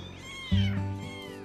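A single drawn-out kitten meow, clear and close, rising then trailing off, with no other sounds around it.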